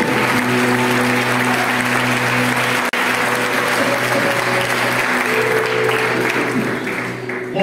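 A church congregation at a Sunday service applauds loudly and steadily, with sustained musical tones or organ-like notes humming beneath the clapping throughout.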